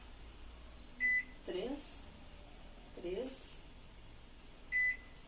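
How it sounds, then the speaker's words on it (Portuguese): A microwave oven being set to heat pizza gives two short electronic beeps, a few seconds apart, while people talk quietly close by. "a gente depois bota a pizza 2 minutos e meio no micro-ondas"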